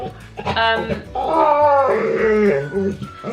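A dog lets out a drawn-out, whining yawn that rises and falls for a few seconds, close and fairly loud.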